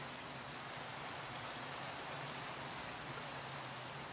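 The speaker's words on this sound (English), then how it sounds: "Rain." Steady rain falls in the Minecraft video game, a continuous dense hiss of drops on surfaces, even and unbroken throughout with no voices.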